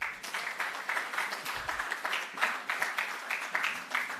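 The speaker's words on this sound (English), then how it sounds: "I want you to clap yourself again." An audience at an educators' training awards ceremony claps in a sustained, dense round of applause with slight swells in loudness, no voices breaking through.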